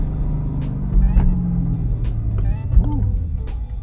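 A 2000s V8 luxury saloon, either an E63 AMG or a BMW M5, heard from inside as it downshifts approaching a stoplight: a steady low engine drone with brief rev blips as gears change.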